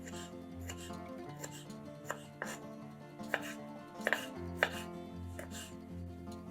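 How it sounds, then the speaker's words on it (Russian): A knife chops a cherry tomato on a cutting board, several sharp taps at an uneven pace, with light music playing underneath. "1 помидор черри нарезаем небольшими кусочками."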